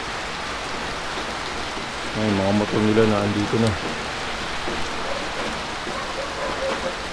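Heavy rain during Typhoon Enteng in the Philippines: a dense, steady hiss of rainfall throughout, loud and close, with a voice speaking briefly over it in the middle.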